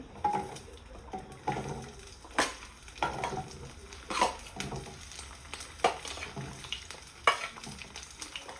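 Garlic fries in sesame oil in a hot pan, a soft sizzle broken by repeated clattering stirs and scrapes of a spoon against the pan, fairly quiet and close.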